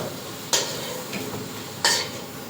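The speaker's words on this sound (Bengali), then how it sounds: "আলু চারটেকে লাল করে কষে নিলাম, তুলে নেবো" Four potatoes fried and stirred in a pan, a steady sizzle with two sharp scraping stirs about a second apart.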